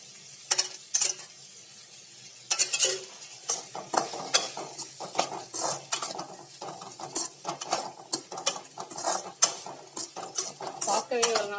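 Ivy gourd fry with chilli, turmeric and salt being stirred in oil in a metal pan, irregular spoon scrapes and sharp clinks in uneven bursts, close and fairly loud.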